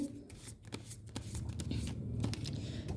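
Tarot cards shuffled by hand for a reading, a close, continuous papery riffling with brief flicks and snaps over three seconds.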